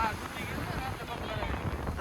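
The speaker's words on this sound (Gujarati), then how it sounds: "આજે વધારે પવન છે કે રોજ આટલો જ પવન હોય?" Strong wind sweeps across the beach at Mandvi, buffeting the microphone in a loud, constant roar mixed with the wash of surf and sea, with a voice speaking under the gusts.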